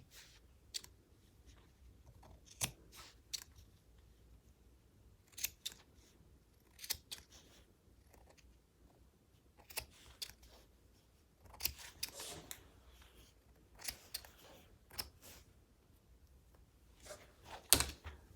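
Scissors snip through T-shirt fabric in scattered short cuts, quiet and close, with pauses between bursts of snipping.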